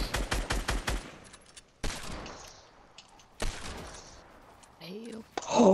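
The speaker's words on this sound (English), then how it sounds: "I'm shooting now, bro." Rapid bursts of video game gunfire, a quick volley at the start followed by a few separate loud shots, with short quiet gaps and voices talking between them.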